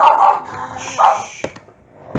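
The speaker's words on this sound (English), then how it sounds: "she was barking." A small dog barks sharply a couple of times nearby, followed by a few short yips, loud and close, with no speech.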